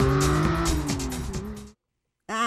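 An old red jalopy pulls in to park, its engine droning close with wavering pitch and a squealing slide as it slows, then cuts to silence before a brief warbling tone begins.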